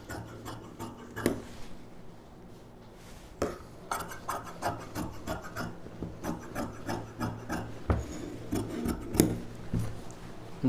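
Scissors snip through fabric while a puff sleeve for a pavadai sattai is cut out. The blades make a series of close, crisp cutting and rubbing strokes in an uneven rhythm, with a quieter pause near the start.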